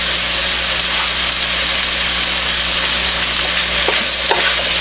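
Tomatoes, bell peppers, celery, onion and garlic sautéing for a keto gumbo, producing a loud, steady sizzle with a constant low hum beneath and occasional stirring knocks near the end.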